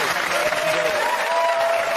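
Studio audience clapping on a TV talk show, a steady burst of applause with crowd noise and some voices underneath, holding at an even level throughout.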